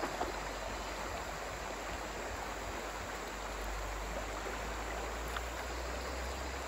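A large river in a forest flows with a steady broadband rush of water. It is continuous and fairly faint, with no voices heard.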